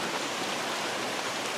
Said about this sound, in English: we've got rain now from Tropical Storm Michael